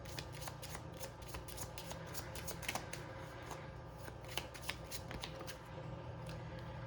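Deck of oracle cards riffled and shuffled by hand, a steady run of quick papery flutters and snaps over a low background hum, fairly quiet and close, with no voices.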